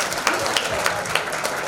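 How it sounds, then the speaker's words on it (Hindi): Audience at an event in Varanasi breaks into steady, dense applause, the clapping continuous and even throughout. "क्लैपिंग कर दीजिए सब लोग एक बार जोरदार तालियों से"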